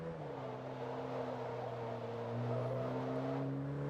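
A car engine in the racing video game Forza Motorsport 2 drones with a growly, throaty tone, holding a steady, close, continuous note that swells slightly louder partway through.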